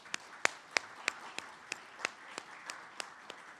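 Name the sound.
audience applause at chamber lunch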